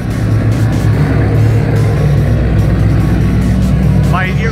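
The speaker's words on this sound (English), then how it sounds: "Oh my God, world's loudest Mustang." A very loud Ford Mustang engine at a Mustang meet-up rumbles with a heavy, continuous low roar right up close and holds steady throughout, with people talking over it.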